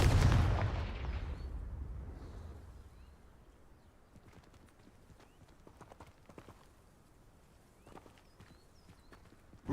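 A Confringo fire spell cast in Hogwarts Legacy, with a loud burst at the start that fades into a long tail and is then followed by faint clopping steps and a sharp hit at the end.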